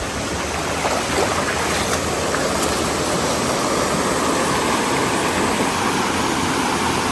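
A constant, loud roar of rushing floodwater fills the scene, broad and unbroken, a fast flood current pouring past nearby.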